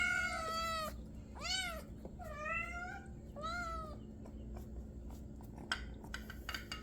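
Several rescue cats meow in turn, four drawn-out, close cries in a row followed by faint clinks and quieter rustling, with no talking during the calls.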